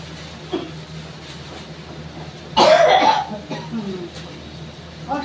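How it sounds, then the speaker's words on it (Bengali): One person coughs once, a short harsh burst in the middle of a quiet kitchen while cooking chutney, with faint background hum before and after. "অস্বাভাবিক কাশি হয়েছে বুঝেছো, ঠান্ডা গরমে"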